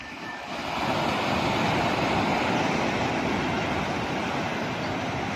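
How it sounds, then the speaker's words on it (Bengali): Sea waves breaking on the beach at New Digha, a loud continuous roar of surf that swells in after a moment and holds steady, mixed with wind noise and no talking. "দেখুন বন্ধুরা সমুদ্রের ঢেউ দেখুন"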